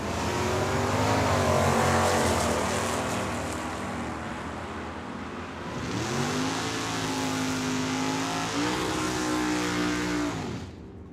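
Engines at a drag strip, including an S10 pickup truck, roar through a launch down the track at Tucson Dragway, with a loud rising rev, pitch shifts as gears change, and a steady droning howl that fades near the end.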